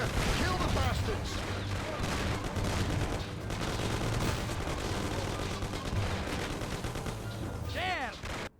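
A gunfight in the game Mafia: rapid volleys of shots crackle over shouting voices and a low droning background, with the firing thinning out near the end.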